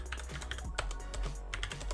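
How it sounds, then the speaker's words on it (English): Rapid keystrokes on a computer keyboard as a terminal command is typed, a steady close run of clicks and taps with no voices. "I'm going to delete it just by typing rm"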